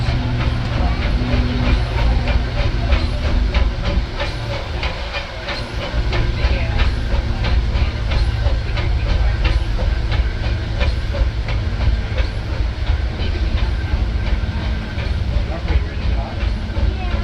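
The Disneyland Railroad train pulled by the C.K. Holliday steam locomotive rolls along with a continuous loud hiss and rumble, regular clickety-clack of wheels on rail joints throughout, and a voice talking over it.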